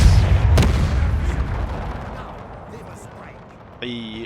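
Cannon artillery fires in a Napoleon Total War battle, one heavy boom at the start rolling off into a long fading rumble, with distant battle noise behind and a brief in-game tone at the end.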